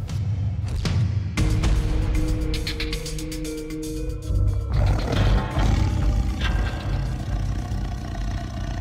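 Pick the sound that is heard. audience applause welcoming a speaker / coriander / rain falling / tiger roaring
tiger roaring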